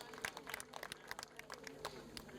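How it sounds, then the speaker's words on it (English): A crowd at a World AIDS Day event in Uganda gives a round of applause, with scattered claps over a low murmur of voices. "And that is a round of applause you are hearing."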